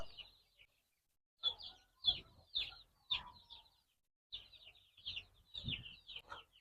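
Chickens and chicks at a poultry farm, with faint high peeping chirps in scattered bursts and a few low clucks, quiet and somewhat distant against a silent background.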